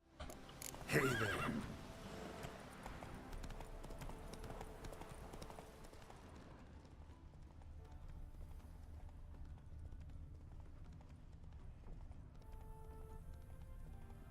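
Horse hooves clip-clop in The Witcher 3 video game, starting with a loud whinny and a burst of galloping, then settling into a steady trot over a continuous low rumble of ambience.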